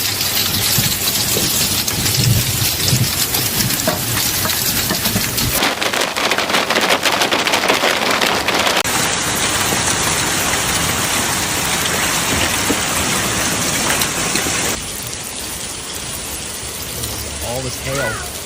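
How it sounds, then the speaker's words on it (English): A destructive hailstorm pounds Albuquerque, New Mexico, a loud, dense, continuous clatter of hailstones lasting the whole stretch, shifting in character as the scene cuts, then easing somewhat near the end. "All this hail."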